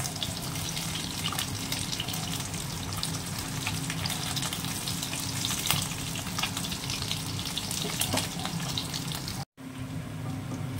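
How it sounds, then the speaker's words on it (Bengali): Small fish crackle and sizzle in mustard oil in a wok, a steady spattering fry with frequent pops, close and continuous, briefly cutting out near the end before resuming; no one speaks. "মাছটা ভালো করে ভেজে নেব।"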